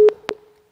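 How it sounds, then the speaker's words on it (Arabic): A telephone busy tone after a call-in line cuts off during a live Egyptian TV talk show: two short, clean electronic beeps that are loud and close, with nothing else heard. "التليفون قطع. اطلبوا لنا تاني."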